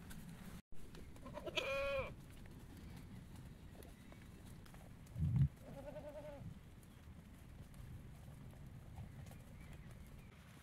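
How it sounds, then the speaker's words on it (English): A goat being milked by hand bleats in a couple of short nasal calls, one early and one midway, amid quiet farmyard background noise and a brief low thump. "So if you ever wonder how to milk a goat by hand, now you have your answer."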